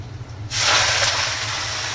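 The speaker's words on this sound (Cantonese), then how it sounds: "温柔啲倒菜落去" Vegetables tipped into a hot wok erupt into loud, steady sizzling at about the half-second mark, following a brief low hum, and the hiss carries on strongly to the end.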